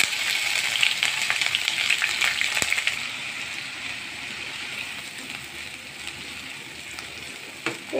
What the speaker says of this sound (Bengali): তেলটা গরম হয়ে গেছে, এখন পেঁয়াজ দেবো 1/3 কাপ পরিমাণ।